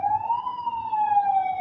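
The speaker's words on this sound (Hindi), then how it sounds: "That's an ambulance." An ambulance siren passes by, a single loud sustained wailing tone that rises and falls slowly and stays clear with no talk over it.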